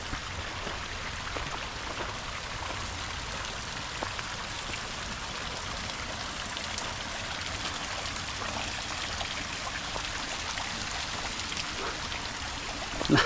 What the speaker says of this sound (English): Some sort of mossy fountain, and then behind it, just a bit more of a muddy fountain